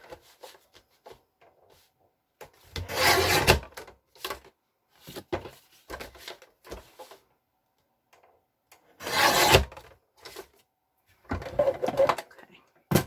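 Trimming paper or card craft journal material: bursts of rough rasping and scraping, some loud and some soft, separated by quiet gaps with small handling sounds.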